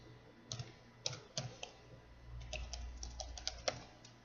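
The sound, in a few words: typing a command on a computer keyboard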